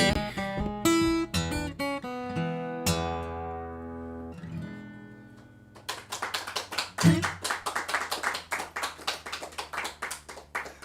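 An audience claps after a song at a live performance by a singer, with dense applause rising in the second half after the last notes and sustained tones of the music fade.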